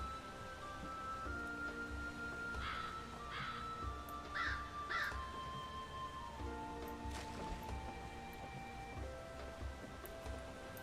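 Crows cawing in a modded Skyrim video game, several harsh caws in short pairs and singles, fairly faint over steady rain-like ambience and a sustained musical drone.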